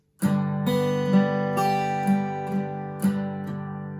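Acoustic guitar playing the opening riff and strumming pattern of a song, slowly: a loud accented strum followed by softer down-up strums on the thicker strings, repeating in a steady, close, ringing rhythm.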